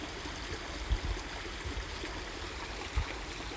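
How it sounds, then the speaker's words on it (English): A creek flows steadily through a forest, its continuous broadband rush and trickle close by, with a couple of soft low bumps near the start and middle and no voices. "Here we're next to a flowing creek."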